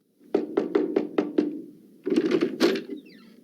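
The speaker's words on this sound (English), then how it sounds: "There was a knock on the door." Six sharp knocks on a door in an even quick rhythm, close and loud, followed by a second cluster of rapid knocks.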